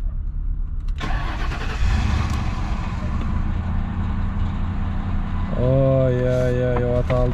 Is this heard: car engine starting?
yes